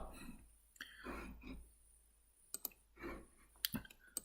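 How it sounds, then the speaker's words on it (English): A computer mouse clicks a few times, sharp light ticks near the mic, with a throat clearing and faint breathing between them in a quiet room. "So if you double click on AutoCAD, give it a few seconds to load"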